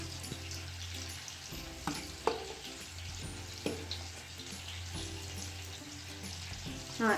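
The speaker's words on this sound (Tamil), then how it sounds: "இப்போ நம்ம ஃப்ரை பண்ணி வச்ச மீனை நம்ம குழம்புல சேர்த்துடலாம்." Fried fish is added to a simmering pot of fish kuzhambu gravy, a steady bubbling and sizzling broken by a few soft splashes and stirring clinks, heard close and with no talking.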